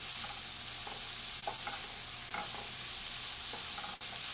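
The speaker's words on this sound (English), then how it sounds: "I'm listening to the sound of this sizzle. And it's a nice, gentle one" Green shakshuka sizzles gently in a pan over moderate heat, a steady soft frying hiss with occasional stirring scrapes and light clinks throughout.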